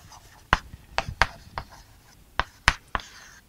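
Pen or chalk taps and short scratching strokes while writing out a maths solution, about eight sharp clicks in an irregular rhythm, close and clear against a quiet room.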